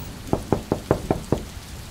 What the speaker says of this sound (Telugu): మళ్ళీ ఒకసారి ఎవరో హరియా తలుపు తట్టారు